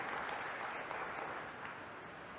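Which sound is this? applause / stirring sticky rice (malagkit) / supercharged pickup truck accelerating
applause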